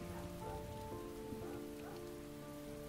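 Steady rain patters on surfaces in the video game Heavy Rain, a soft continuous hiss of drops with faint sustained musical tones running underneath and no voices.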